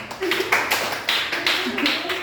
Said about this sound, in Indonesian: Beri tepuk tangan dulu untuk kelompok 4